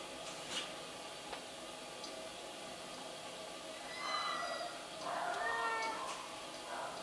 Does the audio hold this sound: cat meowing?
yes